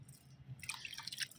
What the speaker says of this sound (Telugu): ఇలా మనం కాడలతో వేసేసుకున్న తర్వాత కొంచెం పైనుంచి వాటరింగ్ అనేది చేయండి